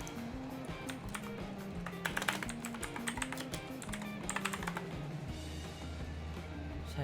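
Typing on a computer keyboard at a desk, a quick irregular patter of near key clicks in bursts, with a low hum running underneath and faint speech at moments.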